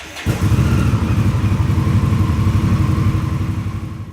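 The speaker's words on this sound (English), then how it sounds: "we'll restart the bike and get it back up to temperature before we check the oil" An Indian Scout motorcycle engine fires up after a restart and runs at a steady, loud, close rumble with a fast pulsing beat, settling and easing slightly toward the end, no voices.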